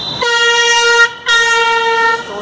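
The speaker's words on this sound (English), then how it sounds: "everyone's honking all over the place" A loud, close car horn on a busy Jaipur street blares in two sustained honks with a brief gap between them, bright and brassy over the low street noise.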